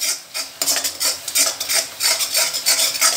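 Masala spices being stirred and roasted in a pan over a low flame: a spoon scrapes and rasps steadily against the metal in repeated close strokes, with a light dry sizzle underneath.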